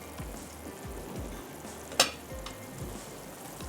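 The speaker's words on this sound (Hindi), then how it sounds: "तो यहाँ पर भी कीमे को भून लेते हैं" Finely minced qeema frying in a pan, a steady close sizzle with soft rhythmic stirring scrapes and one sharp clink of a utensil partway through, no voices.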